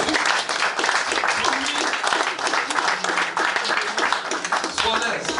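A church congregation at an evangelistic service applauds loudly and steadily, a dense wash of many hands clapping with some voices mixed in, close and continuous throughout.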